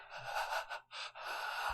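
Heavy, close breathing in a scene from the 2017 film Hagazussa, a few quiet, breathy gasping inhales and exhales with short pauses between them.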